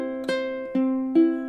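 A ukulele plays a short phrase from measure 19 of a song in time, three plucked notes ringing out in a steady rhythm, close and clear with nothing else heard.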